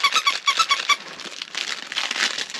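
Plastic-filled pet toy squeaked in quick repeated bursts, bright and close, followed by softer crinkling plastic rustles.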